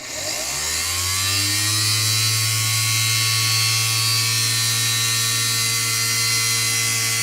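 A used drill bit spins up and bores steadily into stone, a loud sustained whine that rises in pitch at the start and then holds an even, grinding drone.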